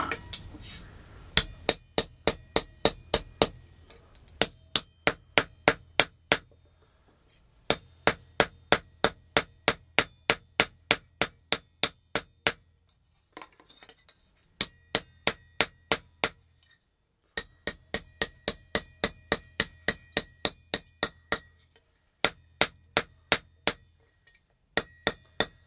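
Hammering metal to bend a flintlock tool, loud sharp ringing hammer blows in fast regular runs separated by short pauses, close and alone.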